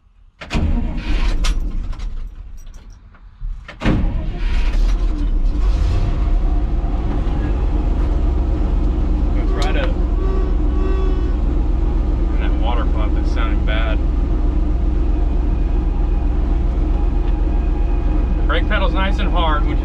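A 1965 old farm truck engine cranks, catches and settles into a loud, steady running rumble nearby, with a person talking over it.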